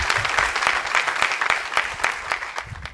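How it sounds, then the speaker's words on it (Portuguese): A church congregation claps together during a Sunday morning service, a dense, steady burst of applause lasting throughout with no speech over it. "Aplauda ao Senhor."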